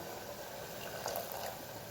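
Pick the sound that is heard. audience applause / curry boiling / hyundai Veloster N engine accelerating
curry boiling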